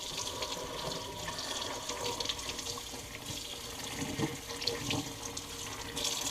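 Kitchen tap water running into a sink while goose meat is rinsed for jerky, a steady splashing stream with fluctuating gurgles and spatters, fairly quiet and close, with no talking.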